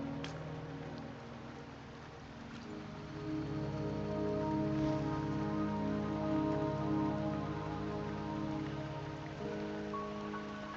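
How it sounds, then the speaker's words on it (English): Steady rain falls in the Wuthering Waves video game, a soft, even hiss that holds throughout and swells slightly after a few seconds, with faint low ambient tones underneath and no talking. "Don't worry, the rain won't last much longer."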